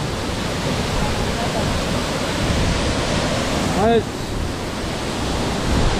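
The Rumah Kei waterfall sends out a steady, broad roar of falling water that fills the scene with constant close hiss, while wind buffets the microphone and a brief chirp cuts through once.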